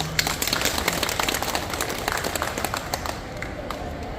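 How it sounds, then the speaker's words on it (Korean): Audience applause welcomes author Jeong Yeo-ul onto the stage at a Demian literature lecture in Starfield Library, COEX, a dense steady clapping that carries through and thins slightly toward the end. "큰 박수로 맞아주시기 바랍니다"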